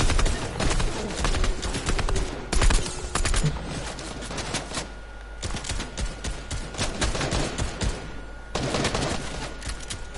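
Rapid, dense gunfire from a video game crackles in loud bursts of overlapping shots, with short pauses between volleys, loud and close throughout.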